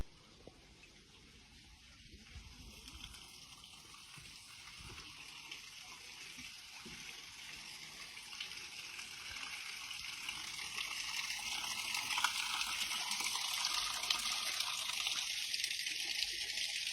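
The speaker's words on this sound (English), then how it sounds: "Looks like somebody figured out the infinite water glitch." Water gushing endlessly from an infinite-water glitch, a continuous hissing rush that slowly builds louder over about seventeen seconds, with no voices.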